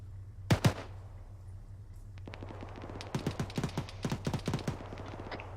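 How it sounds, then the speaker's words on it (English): AK rifle fire in the Arma 3 video game, heard as distant bursts of rapid gunshots and scattered single shots over a steady low hum, with no talking. "Sounds like AK fire again from the south."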